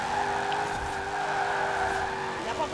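An SUV spins out and skids during a long race in Forza Horizon 4, a steady engine drone with tire screech running throughout at a fairly loud level, with faint voices underneath.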